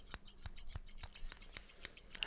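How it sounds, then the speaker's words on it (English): Scissors snip near the ear in a close, quiet haircut, about eight crisp separate cuts falling in a loose, steady rhythm, each a short bright click with faint rubbing between them. "So now I'm going to go in with these scissors here."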